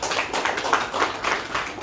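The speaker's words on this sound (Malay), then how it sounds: "sekali lagi kita berikan tepukan kepada konsultan kita" An audience applauding a consultant at the close of an ISO 9001:2015 internal audit course, with steady, moderately loud clapping from a group that lasts throughout.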